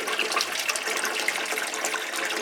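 Water rushes steadily and loudly through a DIY homebrew keg washer and CIP pump being flushed backwards and forwards to clear grain bits, a continuous close gushing with no pauses.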